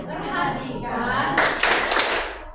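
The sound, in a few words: class clapping the 'tepuk fokus' clap chant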